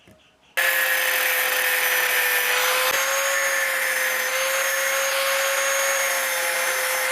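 A power tool grinds steadily and loudly at close range, cutting off the screw ends that stick out of the back of a PVC sheet. It starts abruptly and runs without a break to the end.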